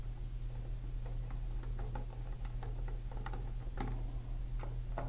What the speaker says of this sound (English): I want to unscrew my output card or output slot